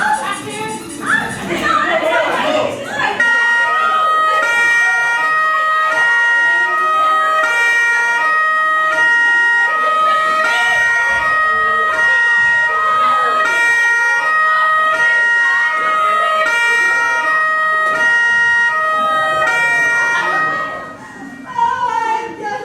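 A police siren blares as officers arrive, a loud, steady two-tone wail that keeps stepping between pitches for about twenty seconds before cutting off near the end.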